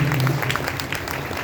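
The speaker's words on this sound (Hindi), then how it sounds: "इनके लिए जोरदार तालियां बजाइए" Audience applause at a Shiv Mahapuran religious discourse gathering, a steady wash of clapping from a crowd with a low hum underneath.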